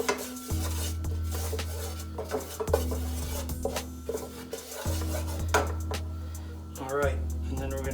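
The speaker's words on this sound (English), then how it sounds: "we need to whisk this out" Whisk clatters against a pan while a garlic roux cooks on low heat, with repeated metallic scraping and clinking in short bursts, close up, under a steady low hum.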